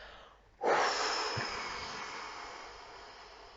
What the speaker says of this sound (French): Et vous soufflez à fond.